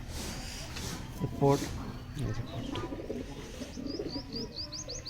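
Pigeons in a loft of Andra pigeons, soft cooing and chirping calls repeating at moderate distance under ongoing conversation.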